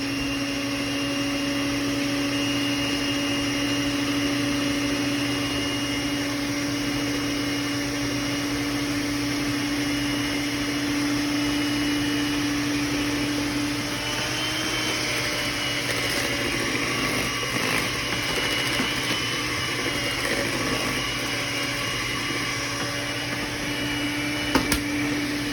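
An electric mixer whirs steadily as it beats batter with eggs and vanilla, a constant motor drone with a slight shift in tone partway through and no pauses.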